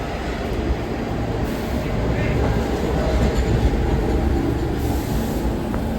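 A New York subway N train pulls in on a weekend reroute, a steady loud rumble of rolling wheels and rail noise filling the whole stretch, with a faint squeal partway through.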